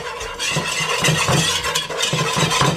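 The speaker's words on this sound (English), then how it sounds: "And then we're gonna use a whisk and combine that." A whisk stirs flour into a thickening bechamel sauce in a pot, a steady close scraping and swishing texture with soft rhythmic strokes and a faint background hum.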